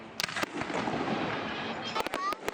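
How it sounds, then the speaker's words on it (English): Fireworks set off outdoors in a celebration, a dense crackling roar with several sharp bursts near the start and a cluster of close, loud pops toward the end. "I think it's time to celebrate with fireworks."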